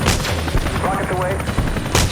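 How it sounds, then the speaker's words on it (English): Military helicopter firing rockets, loud rapid bursts of blasts and gunfire-like cracks over rotor and engine roar, with a voice briefly heard. "Rockets away."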